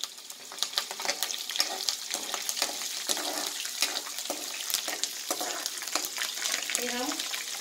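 Mustard seeds, curry leaves and chillies frying in hot oil with peanuts for kanda poha, a bright crackling sizzle that keeps up steadily with small pops and a few stirring scrapes, close and fairly loud without talking.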